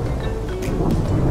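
Heavy rain and rumbling thunder fill the scene in a loud, continuous wash of noise with a deep low roll, close and dense, with no voices.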